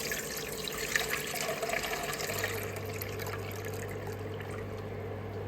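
Stock for a clear pork noodle soup with minced pork is poured into a pot, making a soft steady watery stream with a low hum beneath it, faint and unbroken, with no talking.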